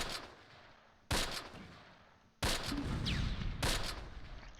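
Gunfire from the WWII strategy game Close Combat: Panthers in the Fog, set in August 1944, in two sharp bursts. Each starts with a loud crack and fades into a sustained rumbling fusillade.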